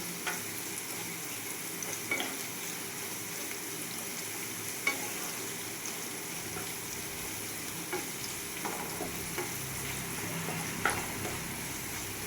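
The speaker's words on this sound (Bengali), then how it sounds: "ভালো করে ভেজে নেব, কারণ যাতে গাজরগুলো আর বিনসগুলো একটু সেদ্ধ হয়ে যায়।" Carrots and beans frying in a pan over medium-low gas heat, a steady close sizzle with occasional soft stirring clicks and scrapes throughout, no voices.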